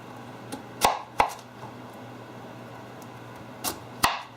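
A knife slicing cassava into discs, sharp cutting-board chops landing one at a time in small clusters with quiet gaps between them, close and clear with no talk.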